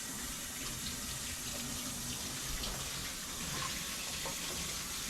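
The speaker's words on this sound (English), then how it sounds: "Let me wash my hands here" Tap water runs steadily into a kitchen sink while hands are washed under it, a close, continuous splashing hiss with no speech.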